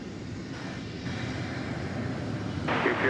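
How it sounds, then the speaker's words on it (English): A Frontier Boeing 767 heavy jet at DFW Airport at night gives a distant, broadband roar that swells gradually, with wind rumble and no voices over it. "Frontier 767 Heavy"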